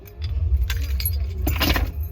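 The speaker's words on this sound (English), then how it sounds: "Car key." Car keys jingle and clink close by in short metallic bursts, once near the start and again more busily toward the end, over a steady low hum from the truck cab.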